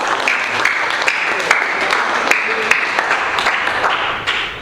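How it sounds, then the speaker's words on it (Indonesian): Classroom applause at a vocational high school, a steady burst of many hands clapping close by for several seconds before tapering off at the end. "kita berikan aplaus untuk Sandi dulu."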